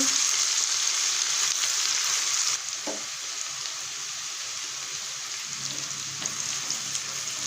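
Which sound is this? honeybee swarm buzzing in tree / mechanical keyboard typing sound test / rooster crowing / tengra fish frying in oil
tengra fish frying in oil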